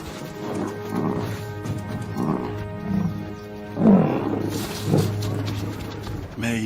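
Lions in the South African wild roar and growl while attacking a buffalo calf, deep repeated guttural bursts rising to a loud peak near the middle, with a steady low drone beneath.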